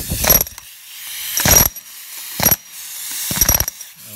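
Plastic pipe cap bottom being broken out during a Champ anchor pot installation: four sharp cracking, crunching bursts spaced about a second apart, close and loud, with quiet gaps between.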